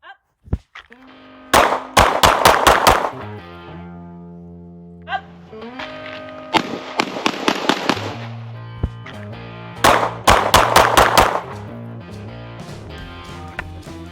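Springfield Armory Echelon 4.0C pistol fires in loud, sharp bursts of rapid shots at close range, with short pauses between strings.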